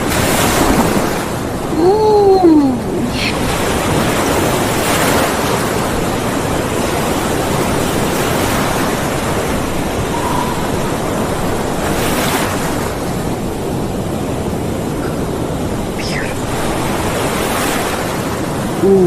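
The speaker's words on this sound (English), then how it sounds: "Look at the water. Look at the ocean. And waves." Ocean waves washing onto the shore, a loud, steady roar of surf with gusting wind noise on the microphone and no voices.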